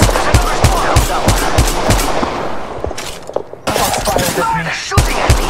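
Rapid gunfire from the mobile shooter game Apex Legends Mobile crackles in loud, close bursts of repeated shots, pausing briefly before more shooting resumes.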